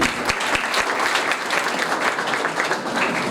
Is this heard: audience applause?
yes